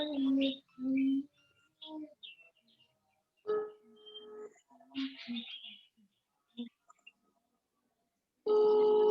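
Telephone ringing tone on a call: a steady electronic tone sounds in separate bursts, with quiet gaps between them and faint scattered noises in the silences.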